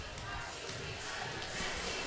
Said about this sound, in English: Beckman gets a big round of applause as she comes out of the ball game.